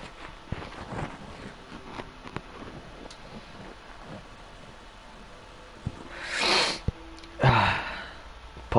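A commentator with a cold sneezes twice in quick succession near the end, a strong close burst followed by a second, after a stretch of faint breathy background noise.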